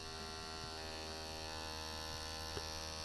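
A tattoo machine buzzes steadily throughout while lining, its needle pressed down hard into the skin, a close, continuous electric hum with one faint tap near the end.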